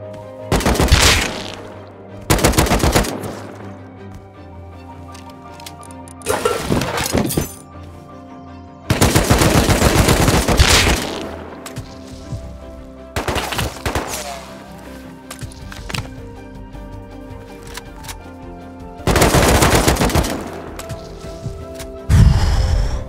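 AK rifle gunfire in the video game Rust comes in several loud bursts of rapid automatic shots separated by quieter gaps, close and harsh, with an occasional single crack.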